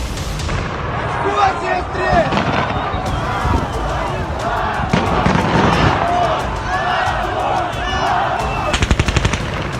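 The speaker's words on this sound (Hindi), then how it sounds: "बीच बीच में सुनाई दे रही गोलियों की तड़तड़ाहट" Gunfire crackles during a street protest, with scattered shots over a loud, busy crowd din and a quick rapid burst of shots near the end.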